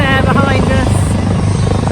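A loud, close helicopter at a landing pad thrums steadily throughout while someone speaks briefly over the noise.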